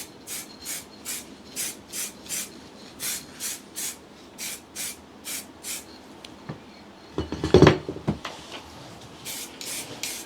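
Short bursts of spray paint hiss in an even rhythm, roughly a dozen light passes, as thin dusting coats go onto Land Rover Series 3 restoration parts, followed by a louder rustle near the end.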